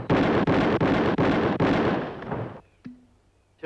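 Five rifle shots fired rapidly in a timed sharpshooting contest in a Western, loud blasts about half a second apart, followed by a fading tail and a brief tone.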